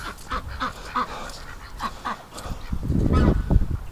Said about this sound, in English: the geese are coming back